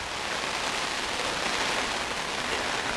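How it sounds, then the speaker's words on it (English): Steady rain falls on outdoor surfaces in a dense, even hiss that holds constant throughout, with no voices. "let's see, Pop, we need to get out of the rain"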